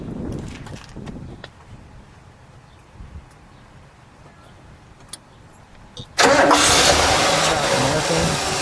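A car engine is turned over by the starter, with faint, muffled activity and voices early on, then catches and jumps abruptly into a loud, steady running roar that holds to the end.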